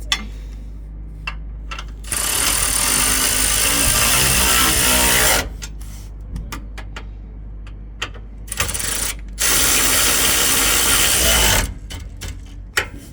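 Bolts on a spoiler bar fitted to a new next-generation Ford Ranger are re-tightened with a ratcheting tool, in two close bursts of quick rapid clicking separated by quieter metallic handling, with no talk.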